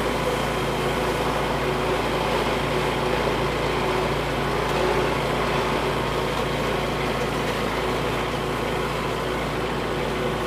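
A tractor engine runs steadily while cutting second-cut hay across a hillside, a constant close drone with no breaks or changes in pace.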